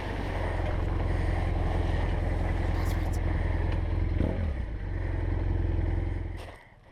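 A BMW F800GS motorcycle engine held at steady revs while the rider feathers the clutch to stop the rear wheel spinning in mud, a continuous loud drone under wind buffeting that drops away near the end.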